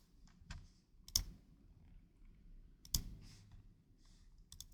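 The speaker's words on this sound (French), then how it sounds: "Si je clique sur l'onglet produit" Several sharp mouse clicks land one at a time with pauses between them, clear and close, while a quick click sounds on a website's product tab.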